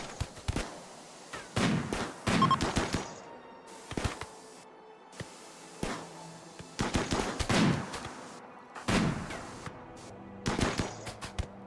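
Gunfire crackles in RimWorld in scattered bursts of sharp, quick shots, several clusters separated by brief quiet stretches, with no talking over it.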